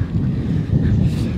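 Strong headwind buffets the microphone on a seaside golf links course at Wimereux, a loud low rumbling roar with gusty swells throughout the short stretch.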